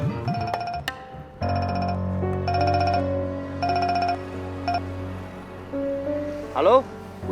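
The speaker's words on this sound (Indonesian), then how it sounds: "Ada telepon." Telephone ringing in repeated electronic bursts, about four rings evenly spaced, over low background music, with a short voice near the end.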